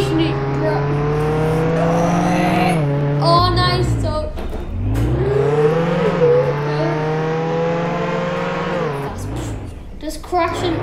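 A car driven in the Roblox game Jailbreak, its engine droning and rising in pitch as it accelerates, dipping and revving again over about ten seconds, with someone talking briefly over it.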